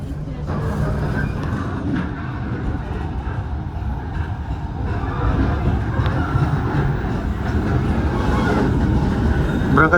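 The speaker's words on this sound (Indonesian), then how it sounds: "kereta api Banyu Biru berangkat dari stasiun Solo Balapan menuju ke arah Semarang Tawang" The Banyu Biru train pulls out of Solo Balapan station toward Semarang Tawang, heard from inside as a steady loud rumble of wheels and carriage noise that grows slightly, with voices talking over it.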